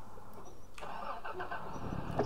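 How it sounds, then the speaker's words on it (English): A truck engine in the video game Squad rumbles and revs up mid-clip, a mechanical drone that holds steady afterward with faint background noise. "It's a truck."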